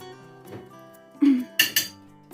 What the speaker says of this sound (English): And now we are just going to be mixing it all together.